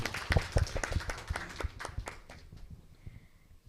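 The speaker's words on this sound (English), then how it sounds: "Let's give a huge round of applause" An audience claps for the team at a cybersecurity workshop, with a short burst of scattered applause that quickly thins out and fades to near quiet.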